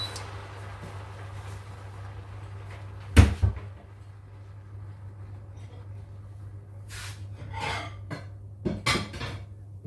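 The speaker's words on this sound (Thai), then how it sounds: "ปิดเตาแล้วก็ตักใส่จาน" Stir-fried shrimp with oyster sauce and mixed vegetables is scooped from the pan onto a plate: a sharp clatter of utensil on dishware, a few softer scrapes and knocks, then more clinks near the end.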